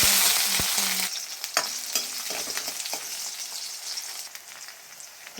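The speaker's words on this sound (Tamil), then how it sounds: "வெங்காயம் நல்லா வதங்கி வந்துடுச்சு" Onions frying in oil with lump asafoetida for a pidi karunai kizhangu kuzhambu hiss in a bright, continuous sizzle, with stirring scrapes and light ladle taps that gradually soften.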